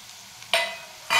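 Cumin, mustard seeds, curry leaves, onion and whole spices fry in oil for a spicy Maharashtrian brinjal dish, with two sharp bursts of sizzling and stirring close up and quiet pauses in between.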